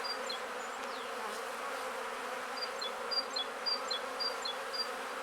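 Honeybees on hive frames hum in a steady, close drone, with a few sharper higher buzzes of individual bees flitting past; no one speaks.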